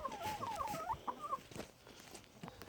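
Chickens cluck and call in a wooden coop being winterized, a busy run of warbling clucks close by for the first second and a half, then quieter scattered calls.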